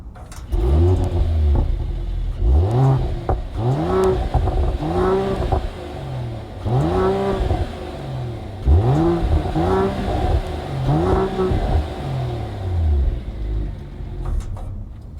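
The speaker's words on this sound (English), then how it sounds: "let's go ahead and listen to the engine on this AMG GLE 53" A 2021 Mercedes-AMG GLE 53 Coupe engine revs repeatedly in rising, falling sweeps, about a dozen throaty bursts in steady succession, loud and close with a deep rumbling tone.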